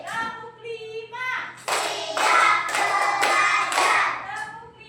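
A class of children clapping in unison in a counted rhythm pattern, several sharp group bursts of claps following a short spoken cue from a voice, fairly close and loud.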